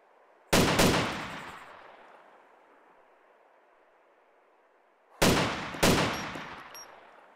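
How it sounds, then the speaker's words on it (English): Two loud, sharp gunshots ring out in the video game DayZ during a sniper battle over the city of Cherno, the first alone with a long fading echo, then a closely spaced pair of cracks with their own reverberating tails. "I hear more shooting."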